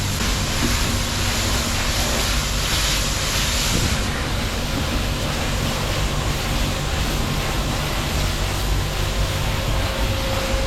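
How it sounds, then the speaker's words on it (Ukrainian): A pressure washer hose at a self-service car wash in Italy sprays shampoo onto a car, giving a loud, steady, close hiss of spray that runs unbroken throughout with no talking. "Тепер зараз все добренько покриваємо машину шампунем."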